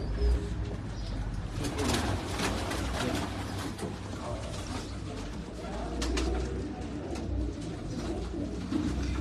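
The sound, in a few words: pigeons cooing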